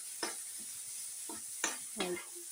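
Curry leaves frying in hot oil while aloo porotta is being made, with soft sizzling and a few scraping stirs, each lasting a moment and spaced apart over steady background hiss.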